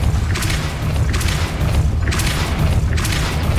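Depulso force spell cast in Hogwarts Legacy, heard as repeated booming bursts at roughly one-second intervals over a steady low game rumble, loud and close.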